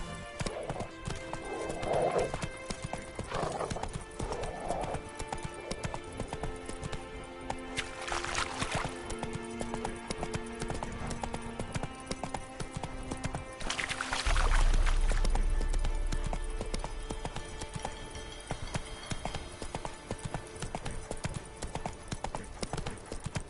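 Roach, Geralt's horse in The Witcher 3 game, gallops with steady clip-clopping hooves throughout, loud and near, with a couple of brief whinnies and game ambience layered in.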